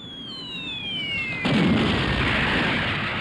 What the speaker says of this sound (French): La Jacques a ouvert le feu, commandant.